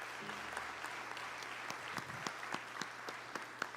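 Scattered applause in a legislative assembly's solemn session, a fairly faint, thin patter of claps with distinct individual hand strikes standing out.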